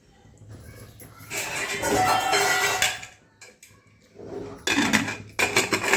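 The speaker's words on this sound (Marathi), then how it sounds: "कुकरचं झाकण लावून देऊ." Metallic clanks and scrapes as a lid is fitted onto a pressure cooker in a home kitchen, a burst of clattering, a pause, then more short rattles and clicks.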